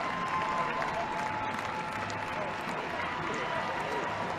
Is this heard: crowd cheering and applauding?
yes